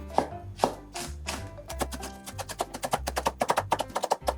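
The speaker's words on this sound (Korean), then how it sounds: "얇게 썰어주세요." A knife thinly slices Cheongyang chili peppers on a cutting board for cucumber cold soup: first a few slower separate chops, then a quick, steady run of crisp cuts, close and moderately loud with no talking.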